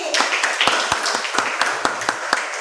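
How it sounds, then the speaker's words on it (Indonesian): Children in a classroom clap together for a classmate, a brisk run of distinct, fairly loud claps with a few sharper individual slaps standing out. "Iya, tepuk tangan untuk Jackie."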